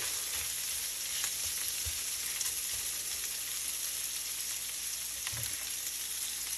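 Bitter gourd frying with a little shrimp and beans in a pan gives a steady, moderately quiet sizzle with occasional soft stirring knocks, and no voices are heard.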